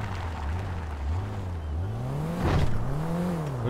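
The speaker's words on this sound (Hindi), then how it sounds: "बहुत तेजी से आ रहा है, किसी की गाड़ी की आवाज आ गई।" A car engine in the racing game GTA 5, with a steady droning hum whose pitch dips and climbs as it revs, swelling into a louder whooshing surge near the end.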